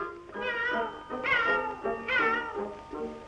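A toy cat gives three or four drawn-out meows, evenly spaced, in a tonal, somewhat artificial-sounding voice.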